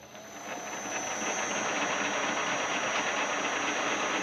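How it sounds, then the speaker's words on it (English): A metal lathe spins up and runs steadily before machining a bronze water pump bushing for a 1914 Studebaker SC-4, a close, rising then constant broadband whir with a faint high whine, heard alone. "So let me go ahead and turn the lathe on."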